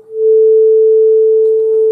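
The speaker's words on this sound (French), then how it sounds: "c'est du 440 Hz, ce qui correspond à là." A 440 Hz sine tone from a low-frequency signal generator sounds as a pure, steady, loud hum that fades in quickly and holds unbroken, with no talk.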